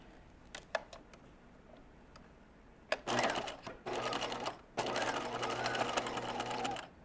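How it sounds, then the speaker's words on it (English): Sewing machine running a straight stitch, a few light clicks and taps first, then two sustained bursts of fast mechanical whirring and needle chatter, close and moderately loud. "I'm going to switch to using a straight stitch here."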